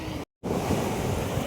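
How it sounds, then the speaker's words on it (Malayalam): Strong seaside wind roars steadily against the microphone near the shore, broken by one brief silent gap, with surf rumbling underneath and no talk. "ഭയങ്കര കാറ്റ്."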